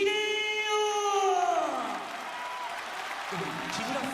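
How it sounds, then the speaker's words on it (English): Crowd applause fills a sold-out arena near Tokyo before a mixed martial arts bout, a broad steady roar with a falling tonal sweep over it and voices present throughout. "Massive crowd here, the sold-out St. Thomas Super Arena just outside of Tokyo."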